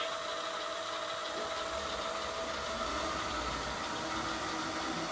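LIECTROUX B6009 robot mop running across a floor, a steady, fairly quiet broadband whir with a faint motor tone, continuous and even throughout with no talking.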